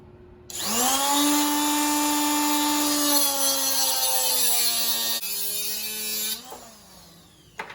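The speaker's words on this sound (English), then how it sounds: "I think the best way to cut this is, unfortunately, with this nasty fiberglass cutoff wheel" Fiberglass cutoff wheel grinding through a steel eccentric cam for a Harbor Freight mini mill, a loud high-pitched whine that starts abruptly, drops slightly in pitch as it bites, then winds down at the end.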